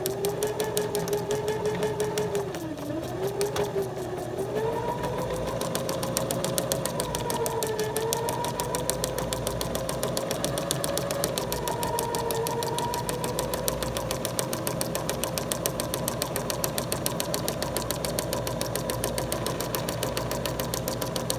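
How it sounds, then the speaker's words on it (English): A sewing machine stitching at stitch length 1, its rapid, even mechanical chatter running continuously up close, with a slight pitch change early on as the speed shifts. "when you're sewing with the stitch length 1, it's really important that you let the machine do the work"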